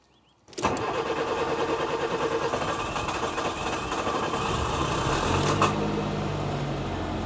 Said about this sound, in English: let's start the car. Now, it may crank over a little bit more than typical because, of course, there's no fuel in the lines